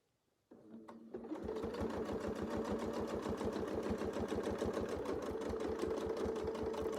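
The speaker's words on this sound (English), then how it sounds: "And we'll sew the whole thing," A sewing machine stitching a quilt starts up after a brief quiet moment, then runs in a fast, even, rapid needle rhythm close by, continuous and unbroken to the end.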